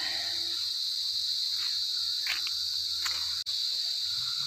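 Crickets on Prayer Mountain chirp in a dense, continuous high trill that stays loud and steady, with a few brief faint rustles and one sudden dropout.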